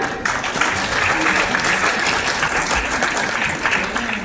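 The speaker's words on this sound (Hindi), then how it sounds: "जोरदार तालियां।" Loud, sustained applause from an audience at a book release ceremony, a dense steady roar of clapping that fills the whole stretch without a break.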